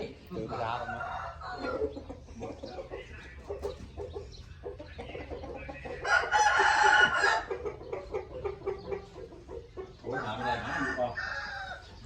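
Hens cluck in short bursts while a rooster crows loudly twice, with people talking nearby in the background.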